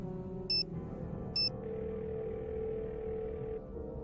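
A phone in a Nancy Drew game rings with two short electronic trills, cleanly spaced about a second apart, over a soft hum of background game music.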